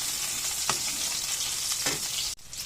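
Garlic and onion fry in a pan with a bright, continuous sizzle, close and even, punctuated by two quick stirring scrapes and a brief drop near the end.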